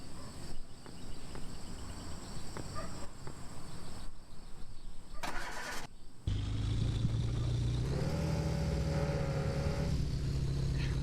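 A Citroen car engine in the video game Car For Sale Simulator starts after a background hum with insect-like chirping, then settles into a steady, fairly loud idle, with no talking.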